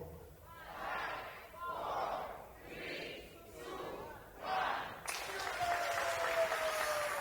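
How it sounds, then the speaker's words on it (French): Audience applause launching a live comedy show, Tapis Rouge, arriving in soft rolling waves with brief murmurs before a stronger, denser burst near the end. "On va applaudir pour lancer l'émission."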